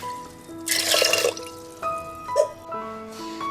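Water pours into an electric rice cooker pot holding washed red beans, a short splashing burst followed by lighter trickles and drips, close and moderately loud with no talk.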